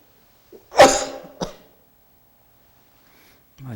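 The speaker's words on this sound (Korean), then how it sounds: "기침이 다 나올까? 이상하다." A single loud, rough cough close to the mic, followed by a shorter second cough, then silence and a brief voice at the end.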